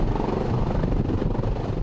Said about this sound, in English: The man who was shot, as well as 2 injured officers, were taken to the hospital via a helicopter.